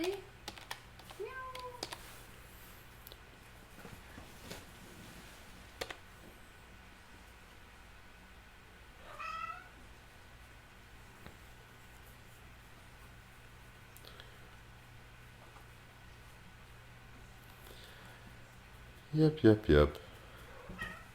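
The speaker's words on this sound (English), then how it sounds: "Come here, kitty. Meow." A cat meows a few times, faint and brief, against steady computer keyboard typing and a low background hum, with a louder burst of sound near the end and a voice speaking briefly.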